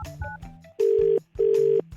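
Telephone line tones play before a prank call: a few short electronic beeps come first, then two long, loud steady tones separated by a brief gap.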